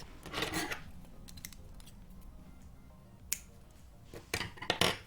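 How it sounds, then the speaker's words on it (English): Small scissors snip crochet thread after a beaded crochet piece, a few short crisp cuts and rustles of handling, close and quiet, with a louder cluster of snips near the end. "Now cut the thread"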